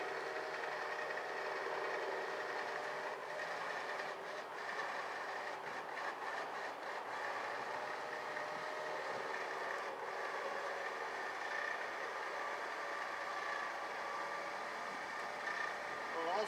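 A wireless-controlled hangar winch pulls an aircraft back into a hangar, giving a steady, continuous mechanical drone with faint intermittent clicks, heard alone at moderate distance for the whole span.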